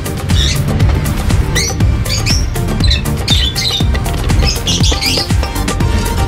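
Busy, overlapping bird chirps and squawks over a constant low rumble, with repeated short calls coming thick and loud throughout.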